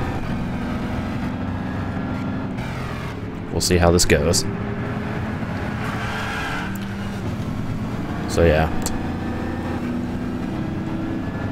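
A classic muscle car engine drones steadily while racing in Gran Turismo 6, with two brief louder bursts as it passes, under someone talking.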